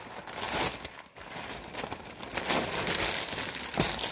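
Packaging crinkles and rustles steadily as a large parcel is torn open up close, with the crackling noise continuing and swelling in brief louder surges.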